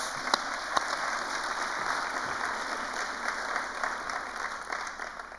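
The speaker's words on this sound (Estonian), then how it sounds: "Aplaus halduskohtunikele" A full assembly of judges applauding administrative court judges, steady moderate clapping from a large hall audience that continues evenly and slowly tapers off.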